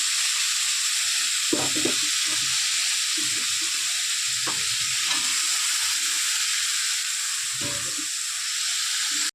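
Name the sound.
frying potato and carrot in a pan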